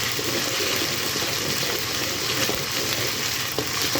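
Ginger and garlic fry in a pan for bhuna khichuri, a dense, steady sizzle that crackles continuously at close range with occasional stirring scrapes and no voices.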